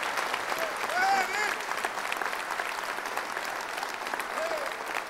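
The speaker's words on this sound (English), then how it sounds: "Let's bring him on with a round of applause." Applause from a large audience welcoming a speaker on stage, a sustained blend of clapping with cheers and calls rising over it, loud and continuous.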